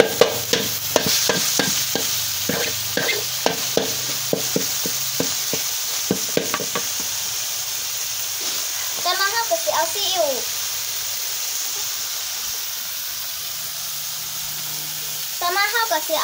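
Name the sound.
stir-frying in a wok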